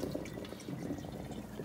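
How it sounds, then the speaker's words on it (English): Pasta water drains through a colander, a soft, faint splashing and trickling with no voices. "drain the water out of the colander"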